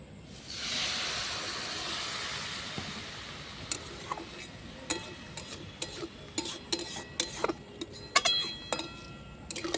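Water poured into a pan of frying flat beans with sugar sets off a loud hissing sizzle that slowly settles, followed by scattered clinks and taps of a utensil against the pan.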